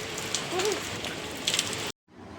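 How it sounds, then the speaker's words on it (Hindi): Heavy rain pours down steadily onto surfaces, a dense close hiss that cuts off abruptly near the end before resuming more faintly. "देखो बारिश हो रही है लगातार, झमाझम बारिश हो रही है, काफ़ी तेज़ बारिश हो रही है"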